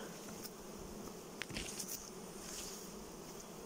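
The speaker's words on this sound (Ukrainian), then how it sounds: "Оце ось вилетів рій, сім'я не працює." A swarm of Ukrainian steppe honeybees hums around hives in an apiary, a thick steady drone with individual bees zipping past the listener now and then.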